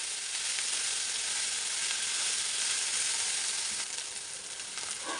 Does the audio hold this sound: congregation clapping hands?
no